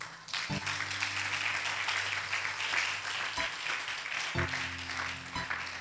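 A church congregation applauding, a steady wash of hand claps heard at a moderate distance throughout, with a few low thumps breaking in.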